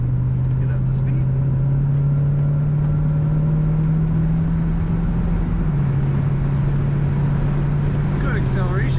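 A 1973 Mercury Cougar XR7 convertible accelerating on the road, its engine a steady loud droning hum that rises slightly in pitch, then drops briefly as it shifts, heard from inside the car.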